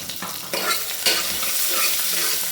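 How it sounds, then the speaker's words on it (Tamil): Cumin, onion and garlic sizzling in oil in a pressure cooker, a steady close frying hiss with a few stirring scrapes and clinks at the start, continuing alone without talk. "இப்போது ஒரு குக்கர் எடுத்து அதில் கொஞ்சமாக எண்ணெய் ஊற்றி அதில் சீரகம் போட்டு அப்புறம் ஒரு பெரிய வெங்காயம் கொஞ்சமாக வெள்ளைப்பூடு போட்டு வதக்கலாம்."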